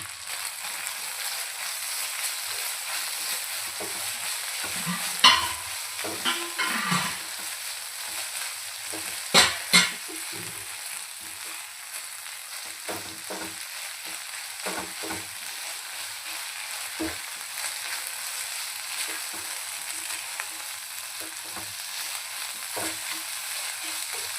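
Mutton keema fries in ginger-garlic paste with a constant soft sizzle, broken now and then by a few louder scrapes and knocks of the spatula as it is stirred.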